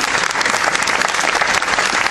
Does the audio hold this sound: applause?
yes